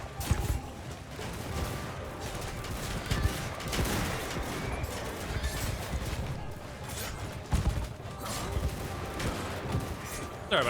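Gunfire in Mount & Blade II: Bannerlord's Shokuho mod pops in repeated irregular volleys over a busy battle din, with scattered louder cracks and clashes throughout.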